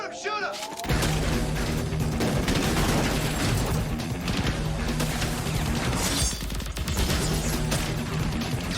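Video game gunfire, a dense rapid fusillade of shots and crashing impacts that starts abruptly and runs continuously, loud and close.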